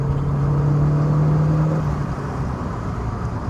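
A Porsche 924 Carrera GT with a turbocharged engine accelerating, a loud close droning engine note rising steadily before settling into a broad whooshing roar.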